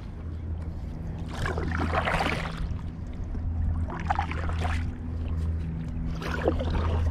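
Paddle strokes dipping and pulling through water beside a cheap fishing paddleboard, three splashy swishes spaced a couple of seconds apart, close and clear over low steady hum, with no talking.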